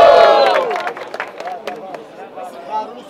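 Crowd at a rap battle yelling and cheering loudly at first, the roar fading into scattered shouts and whoops as a voice talks over it.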